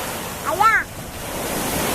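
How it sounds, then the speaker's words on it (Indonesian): Surf breaks steadily at Pioneer Cam beach in Lhokseumawe, Aceh, where big rainy-season waves wash in with a continuous broadband roar, and a brief rising-and-falling voice or whistle cuts through near the start. "Tapi untuk saat ini ombaknya cukup besar sobat semua"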